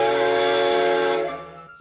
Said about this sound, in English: this is what her whistle sound will be